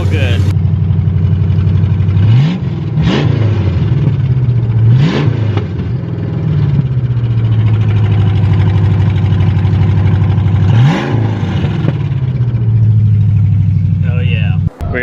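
A 1968 Ford Mustang Fastback V8 with long tube headers idles with a deep, loud rumble close by, rising in several short revs before settling back to a heavy idle.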